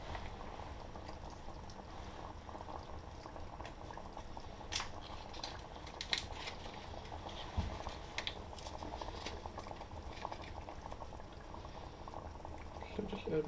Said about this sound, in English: So just add my stock in there.